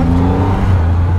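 A Triumph Rocket 3R motorcycle's large engine pulls hard under throttle, a steady deep droning roar with a low rumbling hum, loud and close, with no voices.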